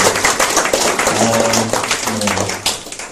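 Listeners at a startup founders' networking forum applaud a speaker, brisk clapping running throughout while a voice speaks over part of it.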